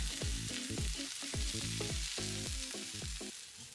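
Okonomiyaki fries in a hot pan just after being flipped, a dense, steady sizzle heard up close, with a few brief, shifting tones running through it.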